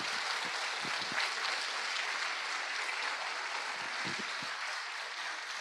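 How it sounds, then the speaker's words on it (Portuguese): Church conference audience applauding strongly, a dense continuous wash of clapping from a large crowd, steady and sustained throughout. "Dê uma forte salva de palmas a Jesus."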